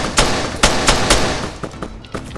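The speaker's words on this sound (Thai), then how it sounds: "เฮ้ย มีคนยิงมาจากตรงนี้ครับ" Gunfire in the video game Arma 3 rings out as a string of sharp, loud shots at an uneven quick rhythm, with fainter, more distant reports following the heavier opening ones.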